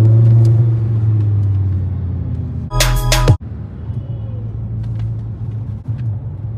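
A 2011 Audi R8 supercar with an automatic gearbox drives along, its loud, close engine rumble holding steady, broken by a sudden harsh burst about midway. No one speaks.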